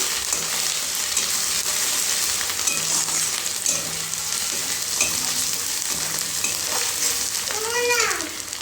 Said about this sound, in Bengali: এবার একটু নাড়াচাড়া করে নেব জিনিসটাকে।